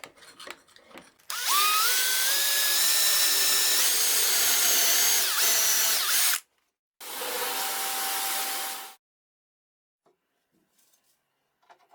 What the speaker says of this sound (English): And drill the hole